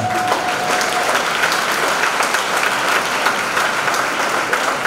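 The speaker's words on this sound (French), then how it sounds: "Est-ce que vous pouvez acclamer pour vous-même?" A church congregation claps in dense, sustained applause that stays loud and even throughout, with a faint hint of voices in the crowd.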